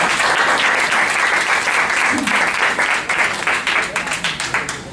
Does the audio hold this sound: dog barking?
no